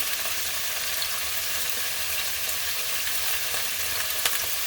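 Bittermelon stir-fries in sesame oil with a loud, even, continuous sizzle close by, no voices over it.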